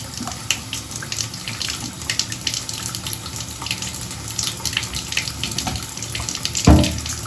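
Water runs steadily and gurgles down a bathtub drain close by, a continuous splashing rush with a brief louder thump near the end.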